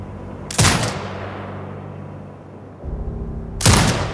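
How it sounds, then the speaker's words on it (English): A remote-controlled turret in the video game Sniper Ghost Warrior Contracts 2 fires two loud, close bursts, with a dull rumbling tail and a low mechanical hum between the shots. "Exit binocular mode and command the turret to fire."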